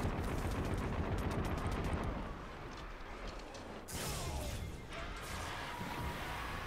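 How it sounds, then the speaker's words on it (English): Rapid machine gun fire in the shooter game Destiny 2 Forsaken, dense repeated loud bursts over game effects, with a short dip mid-way before firing resumes. "now we can switch over to our machine gun"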